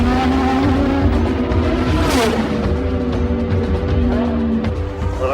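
Formula 1 race cars at speed on a circuit, loud sustained engine whine with shifting pitch, overlapping cars and a brief bright burst near the middle, continuous and close.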